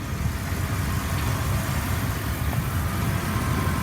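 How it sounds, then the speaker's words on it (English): A 1999 Dodge Ram 3500 enclosed utility truck idles smoothly and steadily at close range, a dense low rumble with no talking. "Revs up nice, idles smooth"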